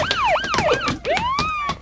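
A police car siren wails close and loud, rapid up-and-down sweeping tones followed by a longer rising whoop, filling the whole moment with no voices.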